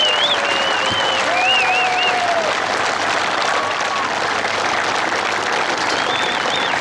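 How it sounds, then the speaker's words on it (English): Sustained, dense applause from an outdoor audience at a community benefit tractor pull in New Vienna, Iowa, with a few whistles and calls riding over steady clapping for the full stretch. "Give them a great big round of applause right there."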